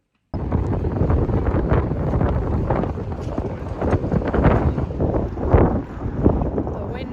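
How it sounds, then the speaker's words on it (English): A very strong southeasterly wind batters the microphone outdoors in Buenos Aires. It makes a constant loud rumbling roar with irregular gusty surges throughout, starting abruptly after a moment of silence. "The wind from the southeast. Yeah. Very strong."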